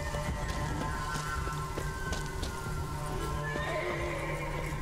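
Roach, Geralt's horse in The Witcher 3: Wild Hunt, clip-clops steadily at close range and lets out a whinny, with light rain pattering in the background.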